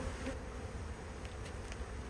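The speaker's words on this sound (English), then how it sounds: "Loads of brood, look how many bees there are." A Buckfast honey bee colony in an opened hive gives off a dense, steady buzz of many bees, close and continuous, with no voices.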